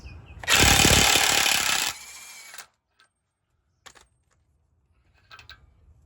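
An impact wrench rattles loudly for about a second and a half, taking off the 36 mm nut on a Honda Clarity wheel hub. It winds down and is followed by a few faint clicks and clanks in quiet.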